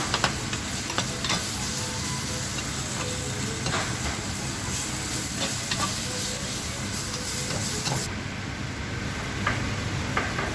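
Vegetables fry slowly over low heat in a home-style Kenyan dish, giving a steady dense sizzle with repeated scraping clicks of stirring throughout; the hiss thins slightly near the end.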